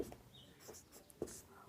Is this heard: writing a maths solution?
yes